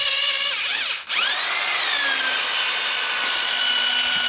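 A power drill whines loudly and continuously, briefly dropping off for a moment before spinning back up to a steady high-pitched run.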